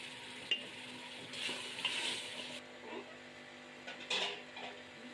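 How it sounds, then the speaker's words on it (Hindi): Chopped tomatoes go into lightly browned onions frying in a kadai, giving a soft sizzle with scattered stirring scrapes and a few light clinks of a spoon against the pan, close and fairly quiet. "जैसे ही प्याज हल्के ब्राउन हो जाएंगे तो यहाँ पर 250 ग्राम कटे हुए टमाटर ऐड कर रहे हैं हम"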